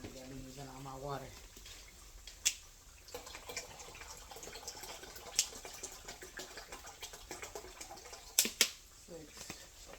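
Water running from a kitchen tap to fill a pot for macaroni makes a soft, steady stream, with a few sharp clanks and drips, while a voice speaks briefly at the start.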